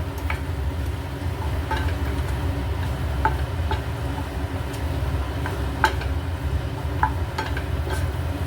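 Chilli chicken with capsicum and onion is stirred in a pan, with a steady low rumble of cooking and scattered scraping clicks of the spatula against the metal, close and moderately loud.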